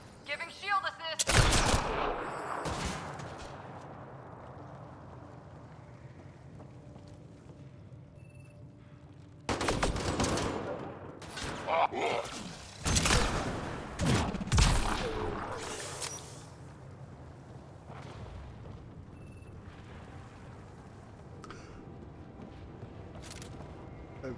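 Sci-fi gunfire in the video game Mass Effect Andromeda, with bursts of rapid shots and blasts that come and go over about 24 seconds and quieter stretches between them.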